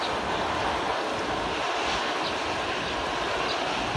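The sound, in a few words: rainwater flowing into a village well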